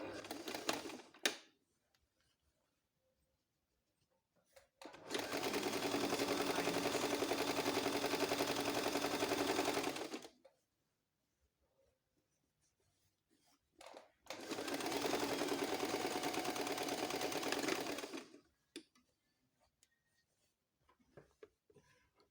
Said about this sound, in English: I will be sewing the darts.